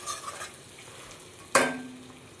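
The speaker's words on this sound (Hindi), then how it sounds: "अभी इसको और 5 मिनट मैं फ्राई करूँगी।" Chicken frying with garam masala in a pan, a soft sizzle near the start, then a sharp clatter of a lid or spoon on the pan followed by a brief ringing tail.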